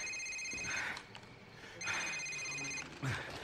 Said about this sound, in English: Sir, it's your cell phone.